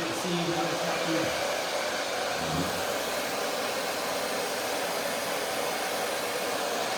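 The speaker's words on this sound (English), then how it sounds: "Using the diffuser cup to do most of the work." A hair dryer fitted with a diffuser blows on long, layered curly hair during a haircut, a loud continuous airy roar that holds steady, with a faint low hum near the start.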